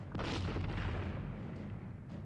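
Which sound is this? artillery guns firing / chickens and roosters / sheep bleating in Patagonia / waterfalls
artillery guns firing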